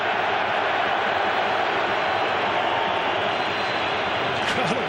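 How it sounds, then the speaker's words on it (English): Football stadium crowd cheering at the 2005 Australia v Uruguay World Cup qualifier: a loud, continuous roar of a huge crowd that stays constant throughout, with a faint commentator-like voice and a brief whistle-like tone near the end. "The crowd on the far side are giving it some as well"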